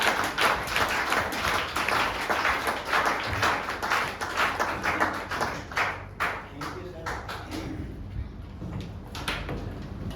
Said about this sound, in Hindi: मैं चाहूंगा एक बार कुणाल जी के लिए जोरदार तालियां, जोरदार तालियां